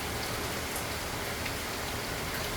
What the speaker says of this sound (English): It's raining today here in Florida, in Ocala.